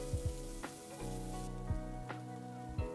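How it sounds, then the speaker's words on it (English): Finely minced onions, garlic and spring onion whites fry and sizzle in oil in a pan, a close, steady crackling hiss broken by a few sharp clinks of stirring. "We start off by frying the onions, garlic, and whites of the spring onions."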